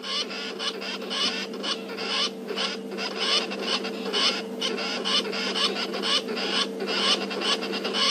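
Birds and squirrels giving alarm calls in the African bush on a safari drive, repeated chattering and chirping calls in a steady rhythm over a constant vehicle hum, fairly close and without talk.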